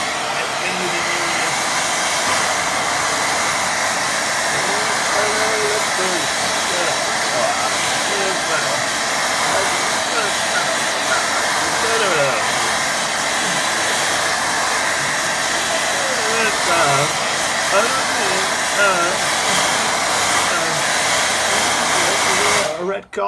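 Hair dryer blowing on a watercolour mountain range painting, a loud steady whirring roar running unbroken for the whole stretch, close up.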